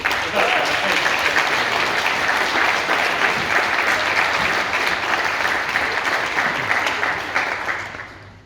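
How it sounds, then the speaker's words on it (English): Wedding guests give a round of applause during the reception speeches, a dense, steady wash of clapping that holds for about eight seconds before tapering off at the end. "And just have a round of applause for them"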